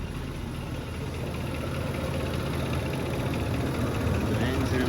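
A Range Rover Sport L320 with over 222,000 miles idles steadily, a continuous low engine hum with a cooling fan running, heard up close and alone without any variation in level.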